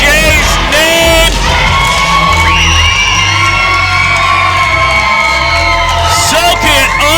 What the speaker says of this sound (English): This crowd chanting the Amazing Jay's name.